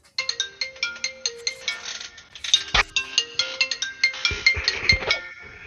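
A phone ringtone from a spam call plays a bright repeating melody of chiming notes, loud and close, with a couple of sharp knocks partway through.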